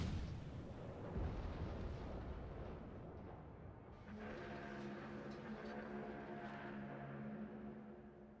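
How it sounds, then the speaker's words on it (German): Naval guns fire in the warship game World of Warships: deep, distant booming rumbles roll through the first half, then give way to a steadier tonal in-game background, all fairly quiet and without speech. "da kommen schon die ersten Schüsse"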